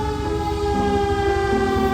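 A fire truck siren wails loud and steady at close range, its sustained tone holding and shifting in pitch over a continuous engine rumble.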